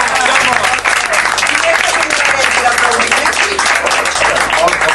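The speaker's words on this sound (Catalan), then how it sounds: "li hem de donar un fort aplaudiment al Jaume." Guests at a painters' group art exhibition in Sant Andreu applaud strongly for Jaume. The clapping is loud, dense and continuous throughout, with a low background hum.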